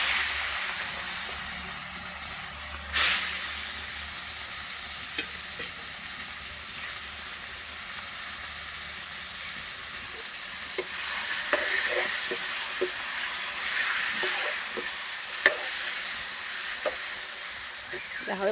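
Pork fries in oil in a home kitchen, later to be cooked with potatoes and mustard greens. A steady, close hiss of sizzling fat runs throughout, with a few sharp scraping knocks and a sudden burst near the start.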